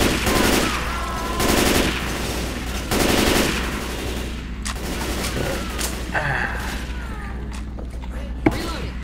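Rapid automatic gunfire from a minigun in the Teletubbies-themed game The Great Teletubby War, several loud sustained bursts separated by short pauses, with players talking throughout.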